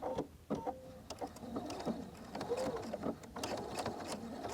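A sewing machine back-stitches in reverse up to the folds of a mitered quilt corner, giving a brief, faint mechanical whir and ticking among soft handling noises, quiet and close.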